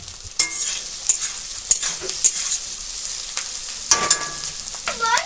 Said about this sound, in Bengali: এগুলোকে আমি একটু হালকা করে ভেজে নেব।